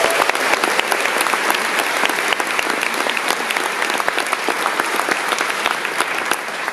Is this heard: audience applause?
yes